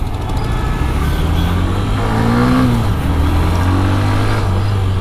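A Hero Xtreme 125R motorcycle accelerating in economy mode, its engine note rising in pitch with the throttle, loud and close, over heavy road and wind rumble with passing traffic.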